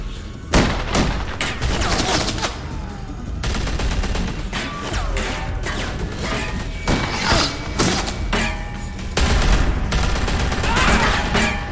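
Dense, rapid gunfire and crashing impacts fill a tense standoff scene in Telltale's The Walking Dead: A New Frontier, loud and continuous bursts with thuds and mechanical clatter throughout, no talk over it.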